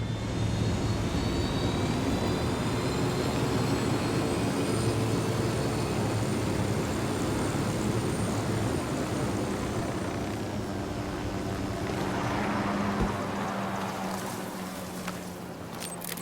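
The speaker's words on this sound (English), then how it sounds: "We got your chopper." A helicopter flies in the video game Ghost Recon Wildlands, a loud, continuous engine and rotor roar that holds steady throughout and eases slightly near the end.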